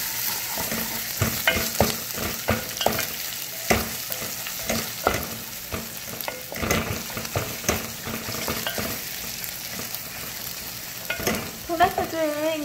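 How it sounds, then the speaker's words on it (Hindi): Ginger sautés in hot oil in a pan along with garlic for Kattay Masala gosht, giving a steady, fairly close sizzle with repeated scraping and stirring clatter throughout. "अब आप इसमें जिंजर डाल दें, इसको भी हल्का सा सौते करें।"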